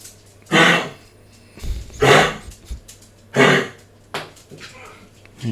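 A pet dog coughs and hacks in several harsh, rough bursts spaced a second or so apart, fairly close, with a faint low hum running underneath.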